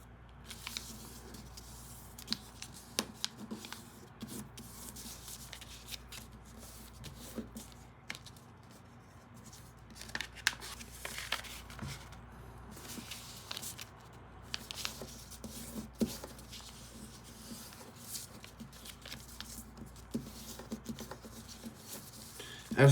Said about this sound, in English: And then we're gonna squash fold these 2 flaps.